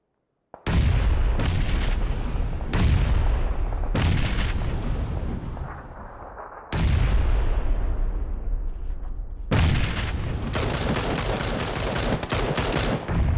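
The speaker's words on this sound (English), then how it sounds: "that nade's gonna get him." Rapid heavy blasts and gunfire from a PUBG battle, several loud booming bursts with long rumbling tails one after another, then dense crackling shots, all close and filling the soundscape with no voices.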